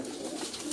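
Pigeon cooing, short and steady, close by with a soft continuous low murmur filling the moment, no voices over it.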